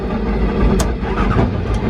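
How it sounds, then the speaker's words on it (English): Boat engines crank and catch with a key start, a loud, low rumbling turnover that settles into a steady close-up running drone, with no talk. "now you're ready to start the engines"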